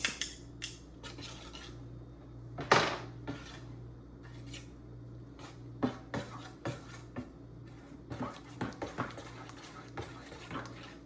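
Uttapam batter being stirred with corn, capsicum and tomatoes in a bowl: irregular spoon clinks, scrapes and knocks against the vessel, some sharper and louder, scattered over a quiet background without voices.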